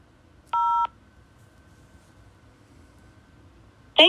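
Telephone keypad dialing tones on a helpline call: a single clear DTMF tone, then a short burst of another tone about three seconds later, over quiet line hiss.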